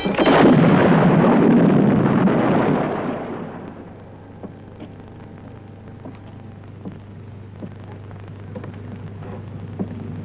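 A dynamite explosion in a 1967 western film erupts as a loud, broad roar that holds for about three seconds, then decays into a low rumble with scattered crackles and small debris pops.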